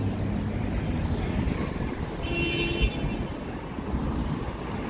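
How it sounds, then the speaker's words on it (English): Steady roar of downtown Chicago street traffic near Millennium Park, a dense, continuous wash of engines and road noise close by, with a brief tonal whine from a passing vehicle midway. "Traffic noise is ruining it."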